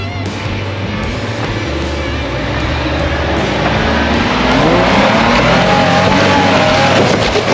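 A Toyota 4x4 engine labors loudly as the truck climbs a sandy hill off road, a steady heavy drone that builds in pitch and intensity near the end, close by with no voices.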